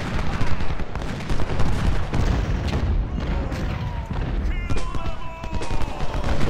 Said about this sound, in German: Was macht ihr Kanonen? Könnt ihr dann bitte ein bisschen da schießen?